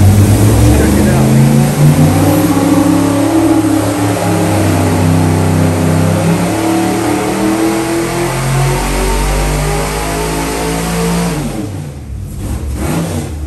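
A 1977 GMC Vandura with a 700 horsepower LS engine and 4L80 transmission runs on a dyno, its engine droning loud and close as it climbs steadily in pitch over many seconds, then cutting off near the end.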